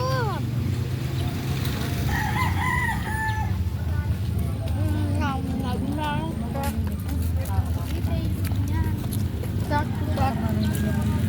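Several birds chirp and whistle in short bursts, with a rooster-like crow among them, over a steady noisy background.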